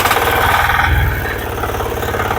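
A 9 HP hydraulic power weeder with self-start runs close by. The engine holds a steady, loud, throbbing drone with a slight knocking pulse.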